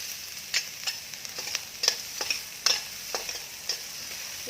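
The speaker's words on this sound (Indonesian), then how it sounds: "Setelah minyak panas, masukkan bawang bombay." Sliced onion sizzles in hot cooking oil in a pan, with a steady frying hiss broken by sharp pops and crackles throughout.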